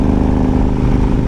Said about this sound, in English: Love the sound too. I'll have to look up even what engine is this? Sounds like it's gotta be a V-twin.